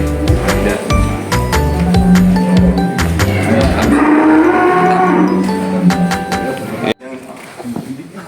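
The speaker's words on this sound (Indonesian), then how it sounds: "Ini jenisnya sapi Brangus" Brangus cattle at a livestock farm in Boyolali low repeatedly, several loud, drawn-out moos overlapping close by, with people talking in the background.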